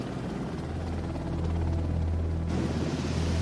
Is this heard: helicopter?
yes